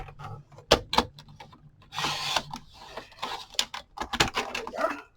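The rough side edge of an altered book page being trimmed, heard as close, irregular dry scraping and cutting strokes with sharp snips in between.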